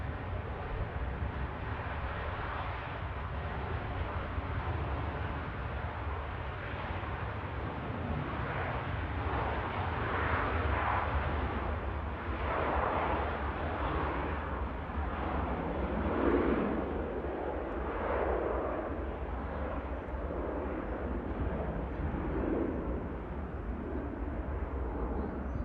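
A Turkish Airlines jet with a pair of IAE engines spools up for takeoff at Manchester Airport, a continuous distant roar that rises and swells unevenly throughout.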